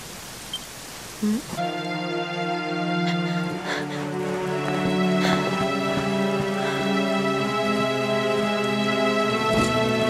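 Steady rain pours down in the video game Dragon Quest XI under a sustained musical drone, with occasional soft thumps; a continuous wash of falling water throughout.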